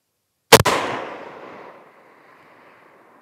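A single sharp report from a Ross Mk III rifle cracks loudly outdoors at a long-range shooting session, followed by a long fading echo rolling away.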